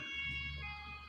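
Ambulance sirens wail steadily in the Plague Inc video game, a continuous tonal drone with layered pitches and a low hum underneath, fairly quiet and uninterrupted.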